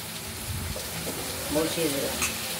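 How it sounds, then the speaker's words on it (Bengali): Bottle gourd pieces hit hot oil with bay leaf, dried red chilli and cumin in a wok, a moderate sizzle with soft clinks while a voice speaks faintly over it. "আমরা কড়াইতে তেজপাতা, শুকনো লঙ্কা আর জিরে ফোড়ন দিয়ে আমরা এই লাউয়ের কেটে রাখা টুকরোগুলো"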